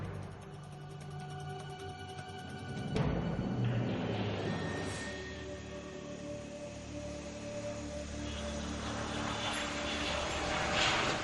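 Military jet on approach to land with hook down, engine noise roaring steadily and swelling after a few seconds, sustained and fairly loud with tonal whine throughout.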